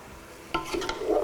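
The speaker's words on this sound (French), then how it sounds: "Donc là, je vais mélanger." A spoon stirs food in a cooking pan, a few close scraping strokes starting mid-clip over a faint sizzle, with no talking.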